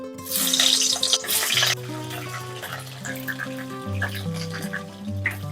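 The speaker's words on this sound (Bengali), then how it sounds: "প্রথমে সর্ষের তেল দিয়ে আলুটা ভেজে নেব" Potatoes frying in hot mustard oil in a heated pan, a bright sizzling burst that settles into a steady softer crackle, close up with no talking.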